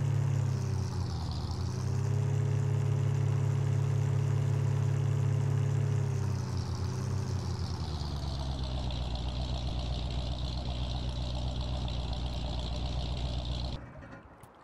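A truck engine runs steadily in Farming Simulator 19, a loud low rumble that revs up briefly near the start and again mid-way, then settles to idle before cutting off abruptly at the end.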